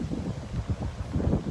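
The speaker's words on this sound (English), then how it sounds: "I'm sure you hear the wind in the video" Outdoor wind during a walking practice, a steady low rumbling buffet against the microphone with gentle gusts rising and falling.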